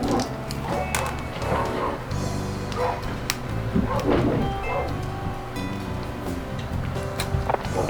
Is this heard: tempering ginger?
no